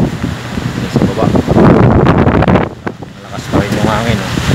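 Strong gusty wind from Typhoon Uwan buffets the microphone in a steady, roaring rush with surges and lulls, while a person talks over it.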